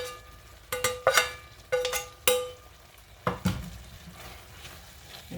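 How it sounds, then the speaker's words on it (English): Jackfruit is stirred into a pan of vegetables for a vegan pot pie, with several sharp scraping strokes and clinks of the utensil against the pan over a gentle background sizzle. "And just stir that in."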